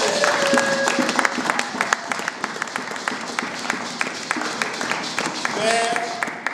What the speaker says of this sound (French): Nous acclamons encore très très fort le Seigneur